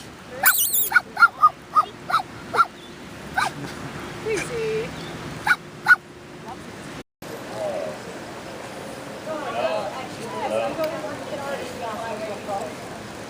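Pomeranian dogs at a train station bark and yip in short sharp bursts, several close together, then fall back under people talking and general crowd noise.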